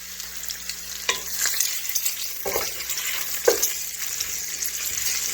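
Bacon sizzles and crackles steadily in a hot pan for a potato soup, a dense close frying hiss broken by a few stirring scrapes, with no voices.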